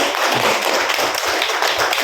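Teachers at a school event burst into steady applause, a dense, close wash of many hands clapping with rapid overlapping taps that stays loud throughout.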